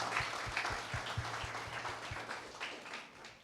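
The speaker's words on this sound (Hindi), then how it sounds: "Shall we all give them a good hand" A church congregation gives a hand to a group of girls after worship. The clapping is soft and somewhat distant, a steady patter of many hands that thins out toward the end, with no talking over it.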